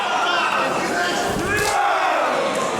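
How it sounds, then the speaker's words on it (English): A wrestling crowd cheers during a title match at a promotion's debut show in Hamburg, a loud sustained roar of many voices with shouts rising through it, while a commentator talks over the noise. "Riddle now starting to feel the energy of this crowd here on GWF's debut in Hamburg"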